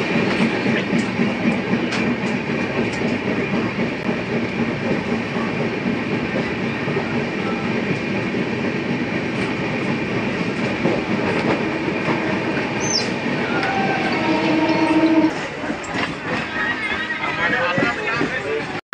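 A train rolls along the tracks toward Sealdah with a steady, loud rumble and clatter of wheels on rail throughout, brief squealing tones near the end, and faint voices in the background.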